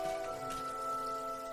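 Soft rain falls in the video game Rain on PS3, a faint, steady patter under sustained tonal background music.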